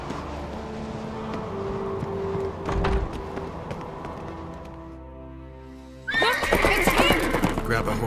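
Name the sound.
horse neighing in video game The Witcher 3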